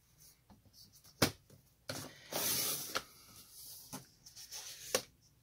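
Cardstock paper being cut straight across its full length on a paper trimmer, with several sharp clicks and brief sliding swishes, one longer scraping pass in the middle, close and fairly quiet.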